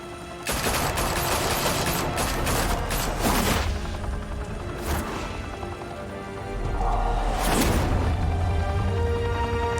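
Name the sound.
gunfire in Batman: The Telltale Series video game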